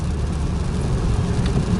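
A BMW 328i with a custom exhaust cruises while intake and exhaust noise blend into a steady, low engine drone heard from inside the car.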